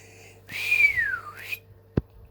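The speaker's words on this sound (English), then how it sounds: "puts his fingers to his mouth and whistles" A man whistles shrilly with his fingers in his mouth, making a single sliding whistle that dips and rises before a sharp knock follows shortly after.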